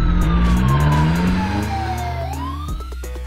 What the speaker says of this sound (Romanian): O ambulanță.